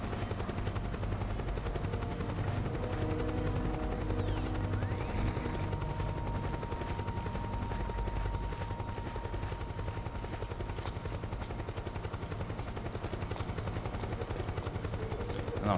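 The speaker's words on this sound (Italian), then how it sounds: "Qua avanti c'è l'elicottero. Arriva." A helicopter approaching during gameplay of Metal Gear Solid 4: Guns of the Patriots, a steady rotor drone with distant gunfire-like bursts running continuously at moderate level, without any talk.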